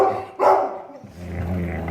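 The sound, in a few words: dog growling while guarding food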